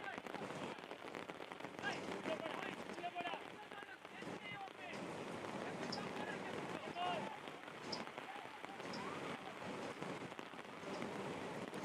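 Heavy rain pours steadily across a youth soccer match at an international cup, a broad constant hiss beneath ongoing commentary talk.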